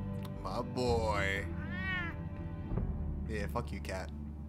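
A cat meows in Batman: The Telltale Series game audio, several rising and falling calls spread across a few seconds, loud and close over steady background game sound and some talking.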